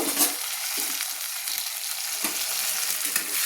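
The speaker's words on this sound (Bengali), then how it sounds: "আলুগুলোকে একটু লাল লাল করে আমি ভেজে নেব" Potatoes frying in spiced oil for a fish-head and khosla greens curry, a steady close sizzle with occasional stirring scrapes and no voices.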